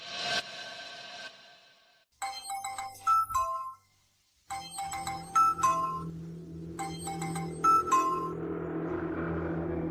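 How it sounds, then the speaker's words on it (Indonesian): A bright electronic phone ringtone plays its chiming melody three times, separated by brief pauses, with no one speaking. "Maaf Kak Aditya, tadi kakak telepon, aku nggak dengar."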